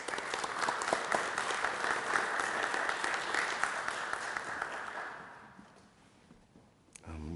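Audience applause at a graduation ceremony welcomes a professor to the podium, a dense steady clapping that fills the room for about five seconds, then thins out and fades to quiet.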